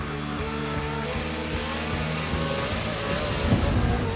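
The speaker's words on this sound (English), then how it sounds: "First gear, second gear, into third gear. Wide open in third gear still." Frozen Rush race truck on an ice track, engine revving up and climbing in pitch through successive gear changes, loud and close, the roar building steadily with no talk over it.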